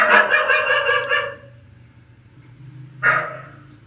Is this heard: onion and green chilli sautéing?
no